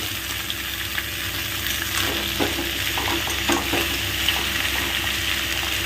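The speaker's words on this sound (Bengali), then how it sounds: "রসুনটা ফোড়ন দেওয়ার পর কী করবো, পুরো জিনিসটা আমি একেবারেই দিয়ে দেব, দিয়ে ভালো করে নাড়তে থাকবো।" Flat beans are frying in oil with a garlic tempering, crackling in a steady sizzle while a utensil stirs them with intermittent scrapes, and no one speaks.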